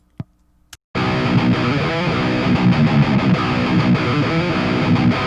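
Electric guitar through the Toneforge plugin's merciless rhythm preset: two brief picked string ticks, then a loud, tightly distorted heavy riff kicks in and chugs on continuously to the end.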